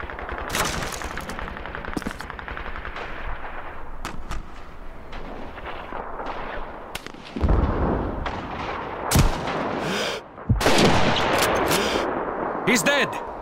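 Sniper rifle fire in the video game Call of Duty 2 rings out as repeated loud cracks over dense battlefield gunfire and rumbling artillery, with voices shouting in the mix.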